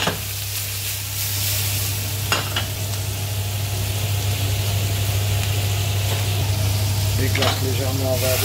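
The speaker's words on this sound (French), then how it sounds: "On va bien saisir des deux côtés." Scampi marinated with spices and lemon sear in a pan over high heat, making a loud, continuous sizzle with occasional stirring scrapes above a low kitchen hum, and a voice speaks briefly near the end.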